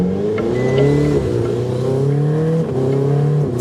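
A Ferrari sports car on the streets of Mumbai, its engine droning loud and close with a rising and falling rev, steady throughout with no voices.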